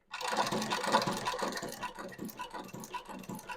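Heavy-duty shoe repair sewing machine with an enlarged shuttle, running for heavy fabrics: a dense mechanical clatter and rapid rhythmic ticking, close and continuous after a quick start.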